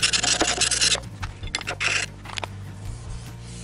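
A rusty jointer shaft scraped with a homemade scraper made from a file, harsh rasping strokes for the first second and again in shorter bursts, close and fairly loud, thinning to lighter scrapes and clicks.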